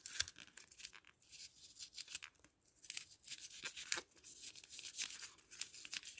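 Scraping and tearing noises from hollowing out a small polystyrene craft egg, a run of close, dry, crumbly scratches that come in bursts with short pauses.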